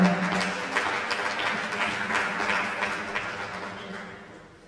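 Audience at an academic keynote on AI and gender equity giving a round of applause, dense clapping that starts strong and gradually thins and fades.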